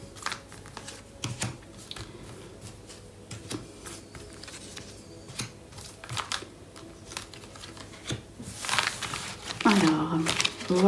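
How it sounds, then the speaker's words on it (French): Tarot cards are laid down one after another on a table, giving several short soft slaps and rustles across the span, with a louder shuffle and clatter near the end. Someone talks over the card handling. "On va placer 5 cartes"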